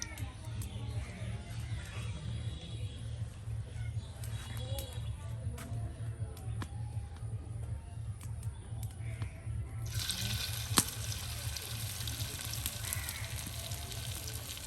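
Kanai leaf batter fritters sizzle steadily in hot oil, a constant crackling hiss that runs throughout, with a low hum beneath and a brighter burst of frying about two-thirds of the way through.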